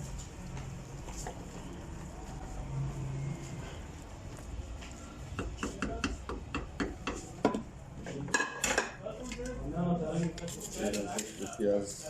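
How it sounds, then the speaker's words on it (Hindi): Browned onions are stirred into meat in a clay pot: a spoon scrapes and knocks against the pot, the clattering growing busier and sharper in the second half, while someone talks over it. "ये प्याज डालने के बाद इसको अच्छी तरह मिक्स करेंगे।"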